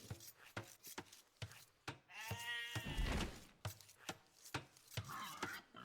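Sheep bleating in the Age of Empires strategy game, a few short bleats standing out among sharp rhythmic chopping clicks from game units, close and moderately loud.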